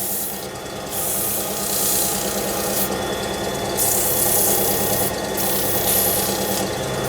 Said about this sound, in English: So I'm just sanding from underneath.